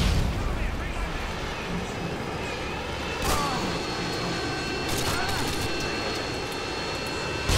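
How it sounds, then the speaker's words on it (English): A Harrier jet rumbles in during online play of Call of Duty Modern Warfare 2, mixed with booming gunfire and sharp explosion cracks over a constant loud roar. Voices talk through the sequence. "Friendly Harrier's inbound."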